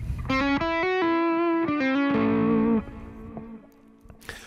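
A distorted electric guitar plays a short run of sustained lead notes, then fades into quiet noise with a faint pluck.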